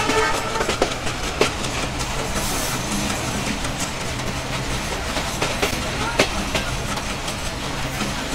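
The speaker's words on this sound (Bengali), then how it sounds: "সিঙ্গিয়া থেকে আমাদের ট্রেনটি ছেড়ে দিয়েছে" Mongla commuter train running on the tracks between Benapole and Mongla, heard from aboard as a constant loud rumble with rhythmic clicks and knocks from the wheels, a voice faintly mixed in.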